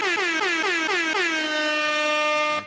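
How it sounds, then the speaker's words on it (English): An air horn blares in one loud, sustained blast, opening with a quick series of stuttering pulses before settling into a steady tone that cuts off abruptly. "I know y'all hear that air horn"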